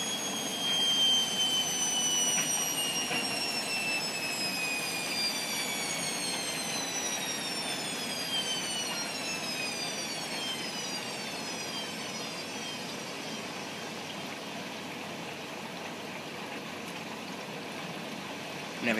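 Bosch washing machine running a rinse cycle with bedding and towels, a steady whooshing hum with a high whining tone that slowly falls in pitch, close and continuous with no talk.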